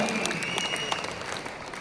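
An audience claps together in a continuous, dense burst of applause that holds steady and fairly loud the whole way through.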